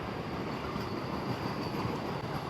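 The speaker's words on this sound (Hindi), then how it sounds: "सामने एक लोकल ट्रेन लगी पड़ी है" Local train sounds near the small Motichur river, heard as a steady, broad rumble and roar that persists throughout with no clear breaks.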